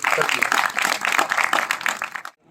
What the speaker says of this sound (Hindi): तो आपकी जोरदार तालियों के साथ मैं इनको बुलाना चाहता हूँ।